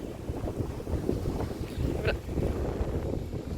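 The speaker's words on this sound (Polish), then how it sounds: "No wieje, wieje porządnie." Strong seaside wind buffets the microphone in a steady, loud roar by the sea, with dense low rumbling gusts and no clear voices.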